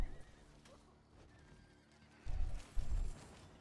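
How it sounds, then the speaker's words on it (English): A horse in the Diablo IV video game neighs, two short loud bursts near the end after a quiet stretch of low background. "horsey"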